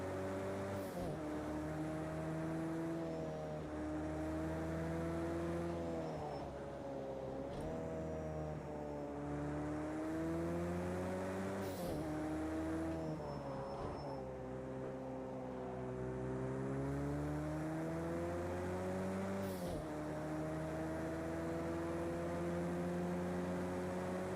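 Steady, continuous car engine drone from a racing video game played on a Logitech G29 wheel, with rising and falling revs as the car takes corners hard, loud and up front throughout with no talk.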